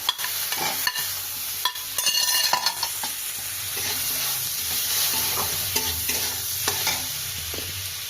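Tomatoes frying with chilli powder in a pan for a Bengali fish-head, cabbage and potato curry, a loud continuous sizzle with repeated scraping stirs and light utensil knocks.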